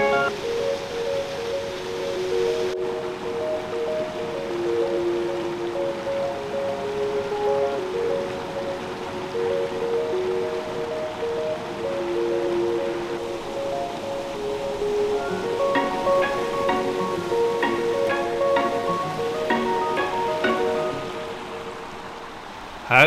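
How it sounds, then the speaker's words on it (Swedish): A small waterfall about two metres high at Silverfallet by Grövelsjön rushes in a constant, even broadband wash of falling water, with faint tonal sounds over it and no talk. "Silverfallet är ett litet vattenfall med cirka 2 meters fallhöjd"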